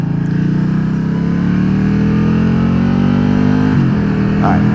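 A Can-Am Spyder 998 engine revs as it accelerates, a loud close steady drone rising in pitch, then dipping briefly at a gear shift before it climbs again.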